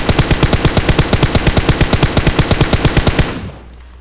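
Rapid, evenly spaced automatic gunfire from a weapon in PUBG Mobile, one loud steady burst of about thirty rounds that cuts off into a short fading tail.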